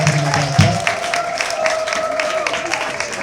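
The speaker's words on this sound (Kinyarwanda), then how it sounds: "Komera Imana amashyi" A church congregation at a Pentecostal service applauds, with bursts of clapping and crowd noise layered under voices and a sustained tone throughout.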